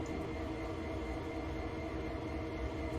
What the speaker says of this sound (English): Very long freight train.